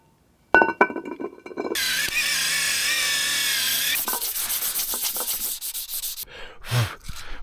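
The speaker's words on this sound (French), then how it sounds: "je l'ai poncé pour que l'embrayage accroche bien" A car clutch part is sanded during an engine swap, beginning with a few sharp clicks and knocks, then a long steady abrasive rasping that shifts to a rougher scraping grind, loud and close, ending in scattered clatter without speech.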